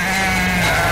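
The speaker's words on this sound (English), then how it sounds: "Sheep." A sheep bleats once in a PUBG: Battlegrounds match, a steady, fairly loud nasal bleat lasting under a second with game noise underneath.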